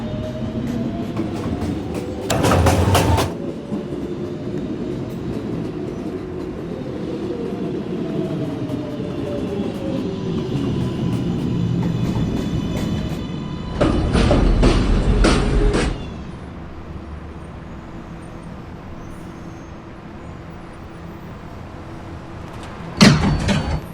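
An R142A 2 train on the New York City subway runs steadily with a continuous rumbling roar, a whining motor tone and squealing rising and falling, plus louder bursts of rattling near the start, middle and end.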